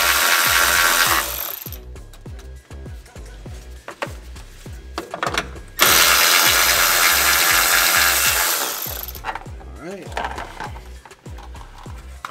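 Ratchet wrench working 10mm nuts off a BMW F30 340i during a spring install, with repeated quick clicking bursts, close and fairly loud, separated by pauses.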